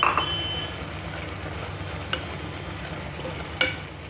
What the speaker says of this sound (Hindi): तो अब हम इसमें डालेंगे टमाटर और भूनेंगे